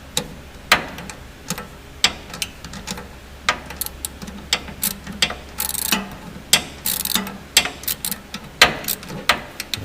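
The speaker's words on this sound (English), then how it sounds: "Tightening that nut up right there." A hand ratchet tightens the nut on a mini starter for a big-block engine, clicking in quick irregular bursts with short pauses between strokes, close and fairly loud with no talking.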